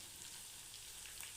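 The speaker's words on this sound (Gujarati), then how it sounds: "તો હવે પહેલા આપણે ડુંગળી એડ કરશું." Chopped onion fries in a hot pan for pav bhaji, a faint, even hiss of sizzling with no talking.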